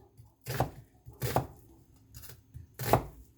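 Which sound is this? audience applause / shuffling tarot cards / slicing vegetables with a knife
slicing vegetables with a knife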